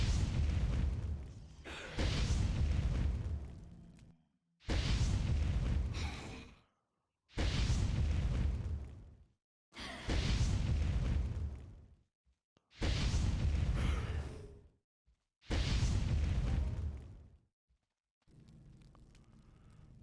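Pyrokinetic blasts in the sci-fi game Planet Calypso, a series of six or seven loud, broad whooshing bursts, each lasting over a second and separated by short silences.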